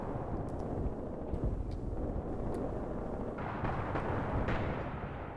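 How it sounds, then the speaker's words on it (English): Enemy artillery fire in Graviteam Tactics, a constant heavy rumble of distant shelling with scattered muffled booms and bursts rolling through a wartime battlefield soundscape, with no talk. "Enemy artillery is really messing with me here."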